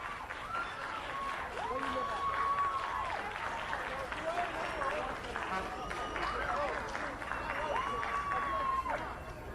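A large outdoor crowd in Times Square, New York cheers and screams continuously, with shrill rising whoops and a steady roar of voices, loud and sustained.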